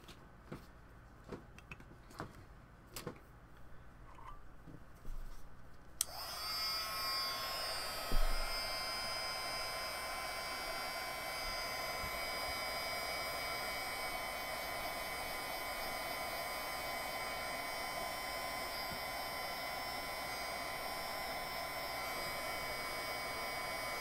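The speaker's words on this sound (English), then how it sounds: "Get this up before I start the heat embossing tool and make a mess of it." A heat embossing tool runs continuously after a few clicks and taps, blowing hot air with a steady loud whirring hum like a hair dryer, close by for most of the clip.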